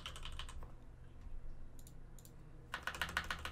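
A password is typed on a computer keyboard, faint close key clicks in a brief quick run at the end over quiet room noise.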